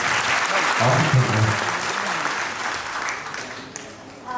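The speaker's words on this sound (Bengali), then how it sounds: "তাহলে এই হাত দিয়ে জোরে একটি তালি দিই" An audience at a gallery exhibition opening ceremony breaks into loud, dense clapping close by, sustained for several seconds before tapering off slightly at the end.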